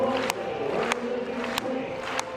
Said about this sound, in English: The athletes love to have the rhythmic hand-clapping support of the crowd.